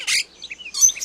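Birds chirping indoors in a home full of pet birds, with bright, close tweets in two quick bursts separated by a brief lull.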